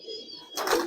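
Giribaz pigeons coo softly nearby, a low murmuring call followed by a brighter, louder burst of fluttering or calling in the second half.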